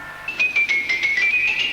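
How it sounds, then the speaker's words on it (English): A cinema organ's xylophone effect plays a rapid run of short, bright struck notes that repeat on a held pitch, clear and close with no voices over it. "the xylophone."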